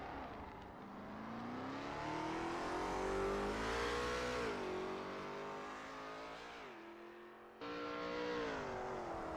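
A Lola T70 MkII Spyder race car in a racing game at Sebring International Raceway, its engine droning loud and steady, pitch climbing and dipping as it revs through the gears with a brief lift before picking up again.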